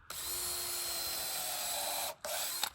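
A power drill bores a pilot hole into wood for large screws during a build from felled trees, a steady whine holding for about two seconds, a brief stop, then a short second burst, fairly close.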